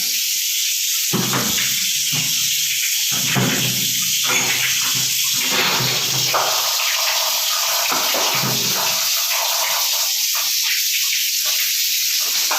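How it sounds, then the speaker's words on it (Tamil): Water gushes steadily from two opened lower taps on a Venus water heater, a continuous broadband hiss with sputtering bursts that rise and fall as the pressure drops, close by and with no talk over it. "கீழே 2 டேப்பை திறந்து விடுங்க"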